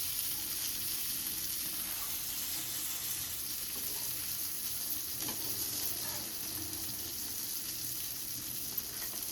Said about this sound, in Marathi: तर आता हे तळून झालेले आहेत. आता मी एक एक असं गाळून काढून घेते.